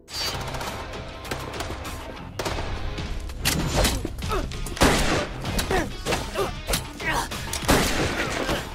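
Action-film gunfire with dense, overlapping bursts of shots and heavy thuds that stay loud and continuous over a busy soundtrack, with no clear gaps between volleys.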